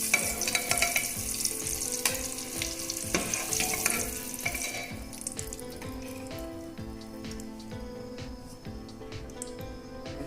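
Eggs sizzle and crackle steadily in hot oil in a pan, loud and busy at first and then settling into a quieter, continuous fry.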